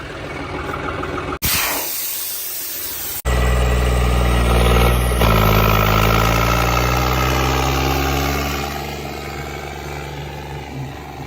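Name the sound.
John Deere 5210 tractor engine idling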